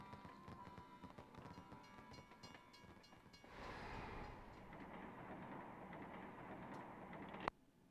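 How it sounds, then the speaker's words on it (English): Video game train passing in the game Detective Kobayashi, a faint rumbling rail clatter that swells into a steady rushing roar midway before cutting off abruptly with a sharp click near the end. "It's a train."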